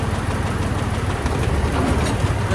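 A farm tractor's engine runs loud and close from inside a vibrating cab, a heavy low steady drone with rattling, the tractor working in soaked fields with heavy kit.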